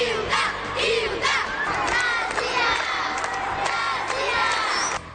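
A crowd of school supporters cheers, shouts and chants at the opening ceremony of the municipal student games in Itapetininga, with many young voices yelling together in a loud, continuous roar and rhythmic chant bursts.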